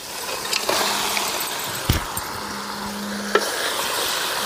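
Cut chicken goes into frying masala and sizzles with a steady hiss, while a spoon stirs and occasionally clinks against the pan, and a faint low hum runs in the background.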